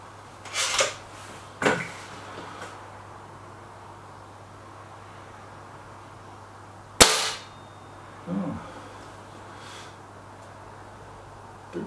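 Air gun firing .22 JSB pellets, Exact Jumbo and Hades, outdoors: a few sharp separate cracks spaced seconds apart, each followed by a faint thud, over a quiet steady background hum.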